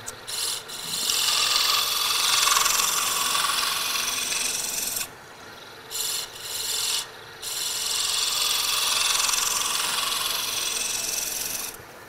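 Wood being turned on a lathe in a woodworking shop, a continuous close rasping, scraping cut with two brief pauses, no talk.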